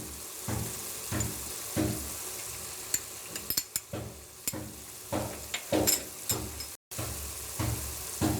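Ground cardamom, clove and cinnamon powder hitting a hot pan for badam salan, giving a steady close sizzle broken by repeated short scraping stir strokes and light utensil clinks, with no voices.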